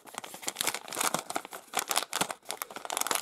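Resealable plastic bag from a Lego Avengers magazine crinkling in quick, irregular bursts, close and fairly loud, with continuous rustling and crackling throughout.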